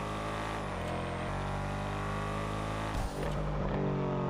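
A Schafter V12 in GTA Online growls steadily and loudly at sustained revs, with a brief dip and shift partway through, no voices.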